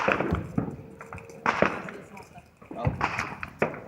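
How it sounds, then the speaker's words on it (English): Home Fourth of July fireworks pop and crack in a handful of sharp bursts, some close and some more distant, with quiet gaps between them and no talk. "Oh, there's some awesome fireworks over there."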